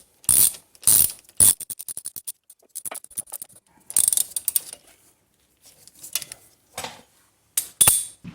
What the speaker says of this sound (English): let me just use my regular ratchet to snug these down, or hand tighten them anyway